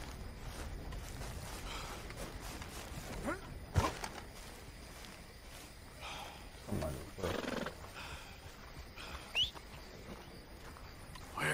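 Several horse neighs and snorts in Red Dead Redemption 2 ring out over a steady background rumble, mixed with occasional hoof sounds and a few faint clicks.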